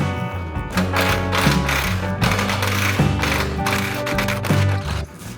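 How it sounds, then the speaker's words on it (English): A power tool rattles away at a 19mm spacer bolt under a high-mileage Lexus during a suspension lift, a loud buzzing hammering in several short bursts, close up. "The old spacer up there is held in with a 19mm bolt, so I'm gonna go ahead and take that out."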